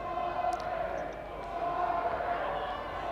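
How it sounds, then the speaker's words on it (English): Warwick supporters in a sports crowd keep up a continuous roar of cheering with chants, while a commentator talks over the noise. "Cheered on by their faithful in the crowd"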